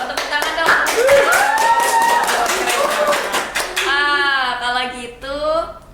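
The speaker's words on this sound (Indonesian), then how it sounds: "Tepuk tangan dong." People clap hands for a few seconds near a podcast microphone while voices talk over the claps and keep talking after them.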